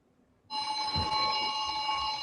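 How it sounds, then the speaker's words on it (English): A flip phone rings out, its bright electronic tone starting suddenly and sustaining close and loud over a quiet room. "flip phone."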